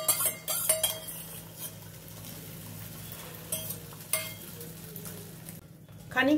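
An egg dropped into hot white oil in a wok for hotel-style omelette chilli, a soft frying hiss beneath clinks and scrapes of a utensil against the pan, louder clatter at the start and end.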